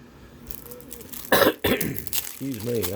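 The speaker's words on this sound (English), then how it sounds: "Excuse me, I just had a cough" A person coughs sharply twice in quick succession, loud and close, followed by a brief vocal sound afterward.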